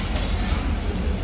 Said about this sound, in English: Today our journey on Karachi Express, it runs between Karachi and Lahore.